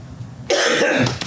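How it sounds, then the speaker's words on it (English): A single harsh, loud cough bursts out abruptly after a quiet lull, followed by a brief breathy catch, in a fabric shop during a presentation of quilt kits. "I'm crying from the cough, hold on."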